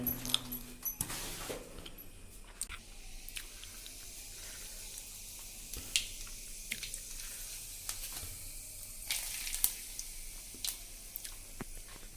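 Cumin seeds hit hot oil in a kitchen pan and crackle in a soft, fizzing sizzle, with scattered pops and ticks over a quiet hiss and no talking.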